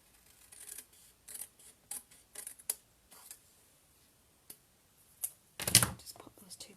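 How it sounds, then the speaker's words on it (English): Paper for card making being trimmed with scissors, a series of short quiet snips and clicks spaced irregularly, ending in one louder, longer cut close by. "And trim off this piece at this"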